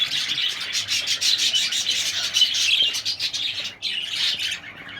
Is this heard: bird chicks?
yes